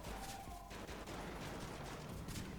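Gunfire in the video game Shot Gun Cop Man, a dense, continuous rattle of shots and impacts at steady loudness, with no talk over it.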